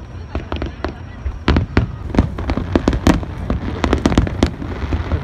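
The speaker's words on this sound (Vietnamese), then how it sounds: "cho nên là mới tổ chức lại lễ hội bắn pháo hoa này" Fireworks at the Yodogawa river festival in Osaka: rapid sharp bangs and crackles burst one after another in quick succession, loud and dense, with a faint tone early on and crowd noise underneath.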